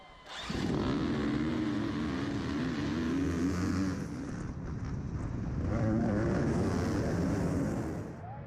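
XC1 Pro off-road motorcycles launching at the start of a GNCC race at Wild Boar, a sudden surge of many engines revving together that swells, dips and builds again as the pack pulls away.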